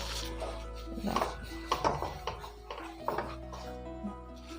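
A kadai wok is wiped with tissue paper, giving a few soft, close rubbing and scuffing strokes over a low steady hum.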